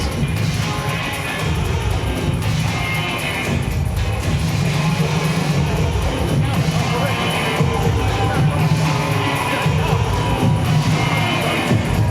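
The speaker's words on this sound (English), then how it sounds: "how about a big round of applause again?" Fight crowd at a BAMMA 6 mixed martial arts event applauding and cheering after the Watling versus Cohoon bout, a dense, steady roar of voices and clapping sustained throughout with loud surges.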